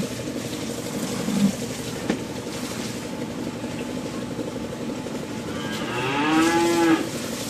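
A pregnant cow moos loudly nearby while being fed, one long low call near the end, preceded by a brief short moo, over steady background noise.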